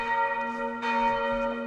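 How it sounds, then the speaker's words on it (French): Tuned church bells ring together in a French Alpine village, their steady sustained tones layered and humming, with a brighter swell of overlapping strikes partway through; no voices. "Les cloches sont accordées ensemble, donc il y a une relation entre chaque cloche."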